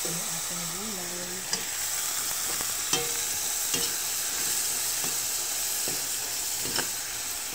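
Winged beans are sautéed with ground meat in a pan, a steady hissing sizzle with a few sharp clicks of a spoon against the pan, fairly faint, and a voice briefly talks at the start.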